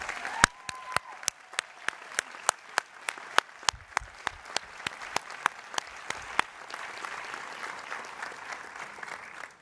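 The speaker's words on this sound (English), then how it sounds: "please join me in giving a round of applause" An audience at a university convocation applauds in a broad, sustained wash of clapping, with a few sharp, evenly spaced claps standing out close by throughout.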